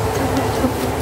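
A dense, steady buzz of many honeybees swarming close by at a hive box in an apiary, a continuous droning hum with no pauses.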